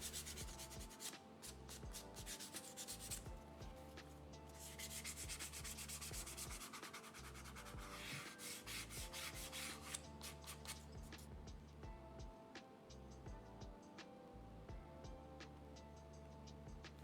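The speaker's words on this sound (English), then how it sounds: "I'm just going to lightly sand the part that I just burnished" Light sanding along the burnished edge of a leather wallet, a steady dry rubbing scrape in repeated strokes with short pauses, close and continuous, no talking.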